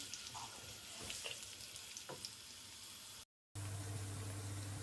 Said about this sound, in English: I'm going to fry them on a high heat